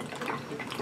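Water drains through a tornado-in-a-bottle vortex, giving a faint, continuous gurgling swirl with small bubbly splashes, soft and close, heard alone.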